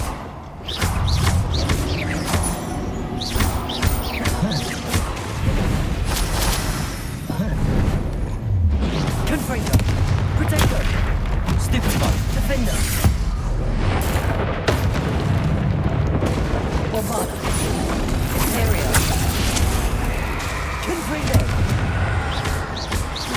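Repeated booming spell explosions from Confringo and Bombarda in Hogwarts Legacy, loud and dense throughout a chaotic battle with layered bursts, impacts and a shouting voice over the noise.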